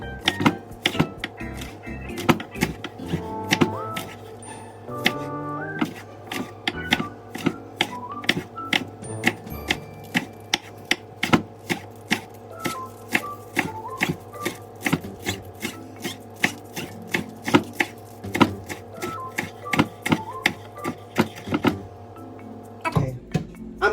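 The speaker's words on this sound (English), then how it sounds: "We're gonna start slicing the green onion. And I'm gonna try to slice it a little fine." A knife slices green onion finely on a cutting board, a brisk series of sharp, close chopping taps in quick uneven bursts with brief pauses and no talking.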